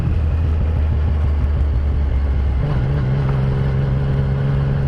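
A Ducati Diavel and a Yamaha XSR900 motorcycle ride along, giving a loud, steady engine rumble with heavy wind noise; a low drone shifts to a higher sustained hum midway, with no voices.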